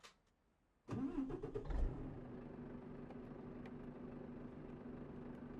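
Volvo truck engine in the Euro Truck Simulator 2 driving game starting up after a short silence, a loud cranking burst that settles into a steady, even idle rumble.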